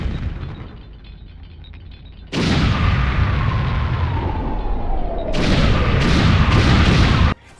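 A big explosion in a Star Fox video game, heard as a sudden loud roaring blast that rumbles on for several seconds, then surges again with a second burst before cutting off sharply.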